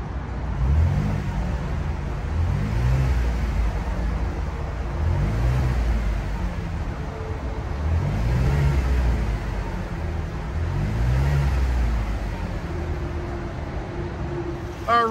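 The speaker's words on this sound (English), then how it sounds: "we do have functional dual exhaust on this Traverse" A 2023 Chevrolet Traverse High Country V6 revs repeatedly through dual exhaust, deep rising pulls in a steady rhythm over a low continuous idle rumble, close and loud.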